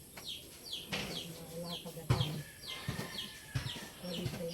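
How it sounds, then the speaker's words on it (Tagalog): A bird calls repeatedly in short chirps at a rural spot in Puerto Galera, Oriental Mindoro, heard among clucking chickens and low background talk, with a few sharper knocks breaking in. "May ibon pa, oh."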